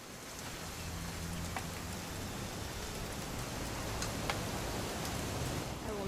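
Rain falls steadily in the video game What Remains of Edith Finch, an even, dense hiss of drops with a few faint clicks and no voices.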